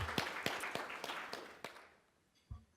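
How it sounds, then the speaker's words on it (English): Scattered, sparse handclaps from a small audience at a government event on women veterans' health, honoring Ms. Clancy: a few distinct claps in the first two seconds, then fading to quiet with one last isolated clap. "should definitely get a round of applause"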